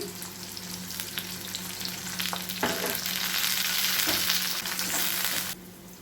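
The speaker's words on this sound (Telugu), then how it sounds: "సన్నగా తరిగి పెట్టుకున్న ఒక పెద్ద ఉల్లిపాయ వేస్తున్నాను. కరివేపాకు వేస్తున్నాను." Thinly sliced large onion and curry leaves frying in hot oil, making a steady close sizzle with occasional stirring scrapes, swelling louder midway before cutting back down near the end.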